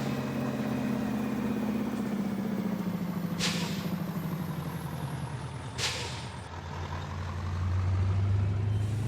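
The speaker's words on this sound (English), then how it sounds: "Now this truck is pretty loud, so I'll make sure I reduce the volume in the video" A loud truck engine idles and rumbles steadily in Farming Simulator 19, with two sharp hisses of air brakes releasing partway through and the engine note rising near the end.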